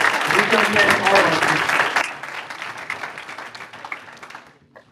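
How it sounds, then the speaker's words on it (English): Loud audience applause fills the room for a couple of seconds, then thins and fades as voices come through underneath. "Give them a round of applause."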